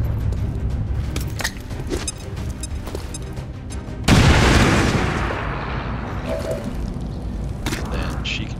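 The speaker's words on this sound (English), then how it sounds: "Let's just go ahead and drop a grenade on him." A grenade blast in XCOM 2: a sudden loud explosion with a long rumbling decay, following scattered clicks and game effects, with a voice speaking in the background.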